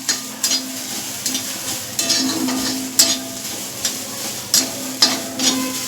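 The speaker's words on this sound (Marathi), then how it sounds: "आता कांदा भाजत आलेला आहे" Onion browns in oil in a cast iron tava while a spatula stirs and scrapes it at a regular pace. The scrapes repeat under a constant low sizzle, with no speech.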